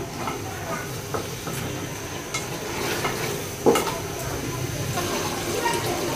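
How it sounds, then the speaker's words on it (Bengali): Beef cooking in a pot on the stove, stirred steadily while it fries, giving a continuous close sizzle with scraping and clinks of a utensil against the pot, plus one sharper knock midway. "আর মাংসটাকে এখন আমি নেড়ে চেড়ে 2 থেকে 3 মিনিট একটুখানি কষিয়ে নিব।"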